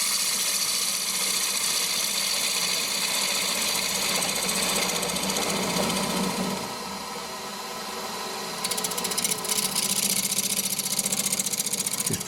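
A wood lathe turns a clock blank held in chuck jaws as a 3/8 swept-back gouge takes the outside diameter down to its final size, a loud continuous whirring and scraping that dips briefly before resuming at full level.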